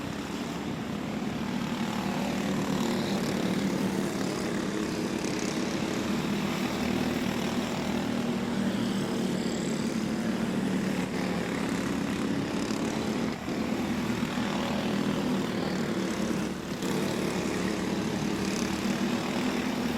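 Race cars circle a motor speedway track during a season opener race, a continuous loud engine roar droning steadily throughout with no break and no voices.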